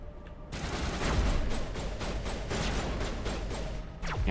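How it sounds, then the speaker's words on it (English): Mass Effect assault rifle firing in three-round bursts, a rapid run of sharp, loud shots repeating steadily for several seconds amid game combat noise, without speech. "having a 3-round burst on the assault rifle is so superior to having it on a sniper rifle"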